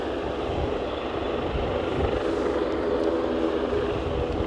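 A Boeing 747 freighter near Aberdeen airport produces a steady, broad jet roar that holds fairly constant at a moderate distance, with no voices over it.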